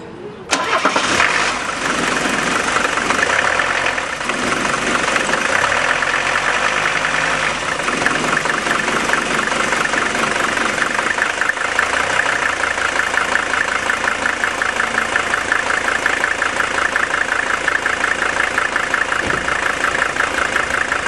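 Mercedes 300TD diesel engine cranks and catches, then settles into a steady, loud clattering idle that carries on without pause, close up and with no one talking.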